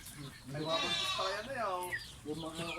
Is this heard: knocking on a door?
no